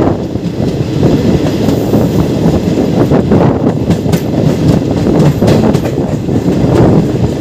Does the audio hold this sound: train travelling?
yes